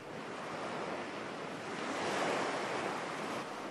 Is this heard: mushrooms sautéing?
no